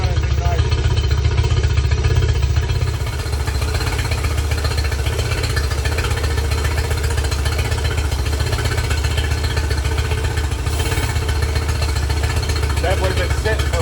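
A Yamaha 50 HP outboard motor runs steadily with a continuous low, buzzy engine drone and some clatter, close and loud throughout, with a voice speaking briefly over it.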